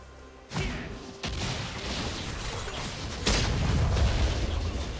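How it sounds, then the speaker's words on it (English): A turret is destroyed in League of Legends: three heavy booming bursts land in quick succession over a dense, continuous wash of battle effects, the last blast the loudest and longest. "Red team's turret has been destroyed."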